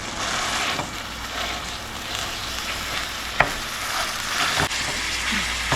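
One pound of ground beef fries in a skillet over low heat, giving a steady close sizzle with occasional scrapes and stirring clinks and no voices.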